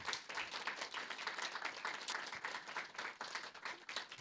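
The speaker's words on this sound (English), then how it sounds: "let's have a round of applause for all of our speakers," Audience applause at a programming-languages conference session fills the whole stretch, dense and steady with many hands clapping at once, fairly distant and moderate in level, with no voices standing out.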